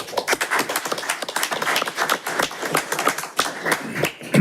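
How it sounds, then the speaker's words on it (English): Audience applause at a county council meeting, a modest crowd clapping with distinct individual claps in an irregular patter, close and moderately loud, with no talk over it. "Let's give Bratton and Denise a round of"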